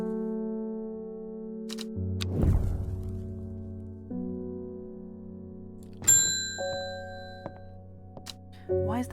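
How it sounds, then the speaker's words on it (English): Bell tones in the video game Strange Horticulture ring out in a few separate struck chimes with lingering resonant tails, over sustained low musical drones and occasional clicks. "Why is that bell still so fucking loud?"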